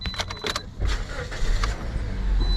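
An auction car's engine idles close by with a steady low rumble, joined by rattling, clicking noises in the first second and a brief faint whine.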